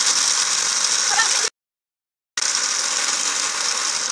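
Blender on high mixing a double chocolate chip frappuccino: a loud, steady grinding whir that cuts off for about a second, then starts again at the same level.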